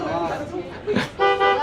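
A vehicle horn honks to call tigers at a tiger park in Harbin, a bright sustained toot sounding close and loud near the end, with people talking over and around it.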